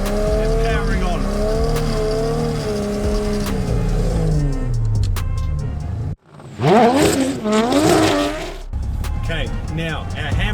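Drift car making a power-over corner entry, engine revving hard with rising and falling pitch and tyre noise, a brief drop in sound midway, then a loud surge of revs, with a voice talking over the first part.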